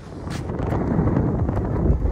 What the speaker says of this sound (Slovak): Fúka vietor.